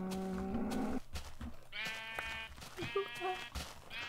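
Blocky farm sheep in Minecraft Beta 1.1 bleat several times in quick succession, nasal wavering calls repeating close and fairly loud over faint game ambience.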